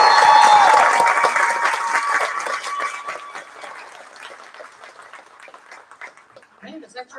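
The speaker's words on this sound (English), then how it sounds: "And one more big round of applause for our intermediate band." Audience applause for an intermediate school band at a spring concert, loud dense clapping that slowly thins and fades, with a few voices and whoops mixed in near the end.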